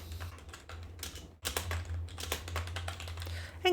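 Keys clatter on a computer keyboard as a name is typed in, a quick irregular run of close taps with a brief pause partway, over a low steady hum.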